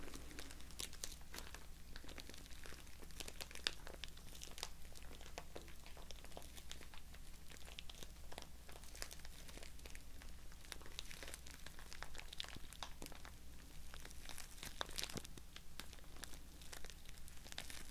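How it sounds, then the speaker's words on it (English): Soft crinkling and crackling of wrappers from an assortment box of chocolates, a steady close rustle running throughout with sharper crackles here and there, quiet and alone. "I love sounds of crinkling."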